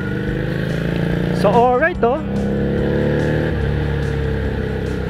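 An FKM Victorino 250i motorcycle with dual-sport tires runs steadily up close on a sandy road, its engine a constant drone, while a rider speaks briefly over it.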